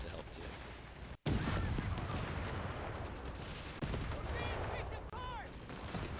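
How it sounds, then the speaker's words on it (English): A .30 cal machine gun firing in a WWII strategy video game, dense bursts of gunfire and booming artillery blasts running almost continuously, with a brief cut-out near the start. "So you can see that 30 cal is operating"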